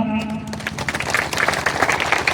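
Crowd applause at a traditional Parha self-governance oath ceremony for village leaders in Lohardaga district, steady dense clapping that builds after an opening voice and stays loud throughout.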